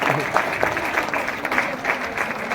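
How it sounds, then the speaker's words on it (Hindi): An audience at a gathering claps along, a continuous dense patter of hands at moderate level, with some voices faintly mixed underneath. "बजाओ भैया तालियां बजाओ"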